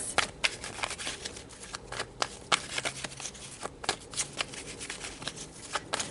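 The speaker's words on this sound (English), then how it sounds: "So let's pull some tarot cards about this." A deck of tarot cards is riffled and shuffled close up, giving a steady run of quick papery flicks and soft slaps over about six seconds, with no one talking.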